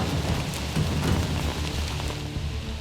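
Heavy rain pours down steadily on a muddy jungle obstacle track in French Guiana, a dense, continuous hiss and patter with a low rumbling undertone, no voices.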